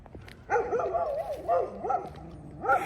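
A dog barks repeatedly at a walker on a road hike, several close, loud yelping barks in an uneven rhythm with short gaps between them.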